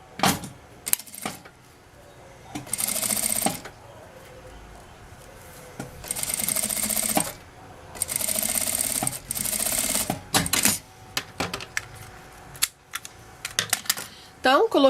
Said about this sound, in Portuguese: Eu vou dobrar ele e costurar em uma das beiradinhas, tá bom?